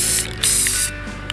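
An aerosol can sprays clear enamel onto a crawfish being preserved for taxidermy, giving two close, loud hissing bursts separated by a brief pause, then a faint click, with no voices.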